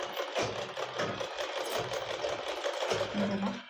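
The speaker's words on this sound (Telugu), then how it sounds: "అంటే స్టిచ్చింగ్ కాదు, మిషన్ని తొక్కడం అనమాట." Treadle sewing machine stitching cloth at a beginners' tailoring class: a close, rhythmic run of mechanical whirring and knocking in short repeated bursts, with someone talking over it.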